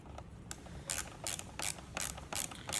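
Screws are turned into a Big Mouth Billy Bass plaque during a repair, giving a rhythmic series of short ratcheting clicks, about six evenly spaced bursts, close and fairly quiet with no speech.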